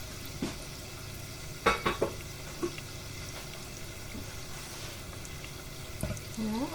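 Caribbean fried dumplings (johnny cakes), a second batch, sizzle softly in hot oil over lowered heat, a faint, steady frying hiss broken by a few light clinks and stirring sounds, without talk.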